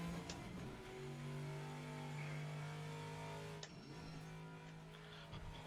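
A race car engine in the Assetto Corsa sim racing game drones steadily at high revs on a Bristol lap, then stumbles briefly on a downshift before resuming, with no talk over it.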